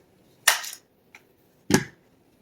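An AR-15 rifle being cleared, two sharp metallic clacks of the action about a second apart with a faint click between them, close and loud against a quiet room.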